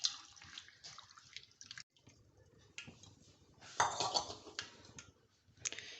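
Sliced potatoes swished and rinsed by hand in a bowl of water, with close splashing, dripping and occasional clinks of the bowl, louder bursts of sloshing in the middle and toward the end, no talking.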